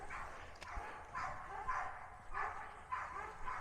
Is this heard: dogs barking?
yes